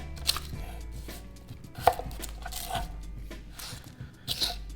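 A knife chops garlic on a cutting board in a handful of sharp, irregular knocks, close and crisp against a quiet kitchen background.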